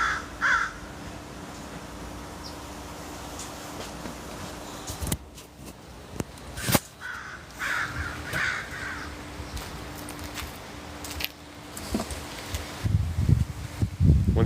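Crow cawing outdoors in short bursts, mid-distance, with leaves rustling and light wind between calls; no talking.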